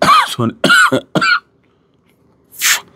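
A man coughs in several quick harsh bursts close by, pauses in silence, then gives one final short rasping cough.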